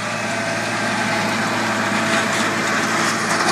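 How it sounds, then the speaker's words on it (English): A 50 horsepower hydrostatic Kubota tractor pulling a John Deere 8350 planter hums with a steady, close, even engine drone and no talk over it. "50 horse hydrostatic Kubota tractor"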